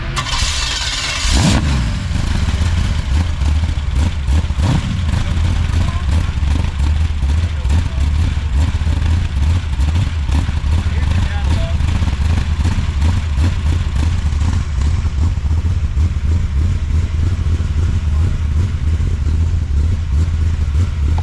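A Chevrolet C10 truck engine with an Edelbrock intake on a hub dyno cranks and starts, then settles into a loud, steady, rumbling idle with a rough lope, running continuously up close as people talk faintly underneath.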